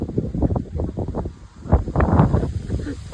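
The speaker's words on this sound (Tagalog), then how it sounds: "Napakalakas ang hangin." Strong wind buffets the microphone in heavy, irregular gusts while flying a kite, rumbling low and surging loudly, with leaves rustling underneath.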